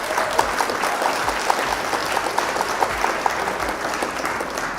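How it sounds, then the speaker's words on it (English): Steady applause from a crowd at a live Flesh and Blood card game match, dense clapping throughout with a few sharper claps standing out, sustained and fairly close. "Round of applause."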